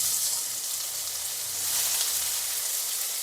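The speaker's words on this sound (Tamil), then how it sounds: "இப்போ கட் பண்ணி வச்சுருக்கிற வெங்காயத்தை சேர்த்துக்கலாம்." Chopped onions fry with mustard seeds in hot oil, giving a steady, dense sizzle that fills the whole stretch close up, with no voices over it.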